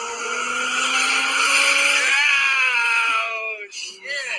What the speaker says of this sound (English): we're in Felix's Lexus IS 300, big ass turbo, ready, hit it.